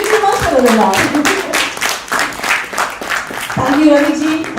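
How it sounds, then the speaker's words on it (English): Audience clapping for people on stage at an empowerment event, a sustained round of applause under a loud, close voice talking over it. "I think they deserve another big round of applause"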